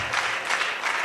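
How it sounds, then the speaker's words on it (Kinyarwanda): A congregation claps in a church service of thanksgiving, a dense, steady wash of many hands filling the whole moment, with faint swells in intensity and no voices standing out. "Mumbere Imana amashyi"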